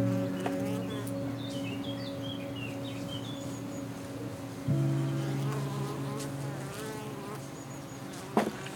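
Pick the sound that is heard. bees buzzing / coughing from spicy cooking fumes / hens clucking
bees buzzing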